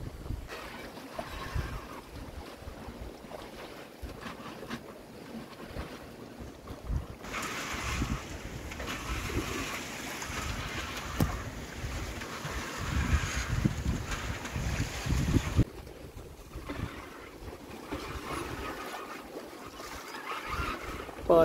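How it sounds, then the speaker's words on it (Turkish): Waves foam and rush at the bow of a sailing boat at sea, a steady wash mixed with heavy wind buffeting, swelling louder in the middle stretch before easing back. "Tam burunda köpürüyor dalgalar."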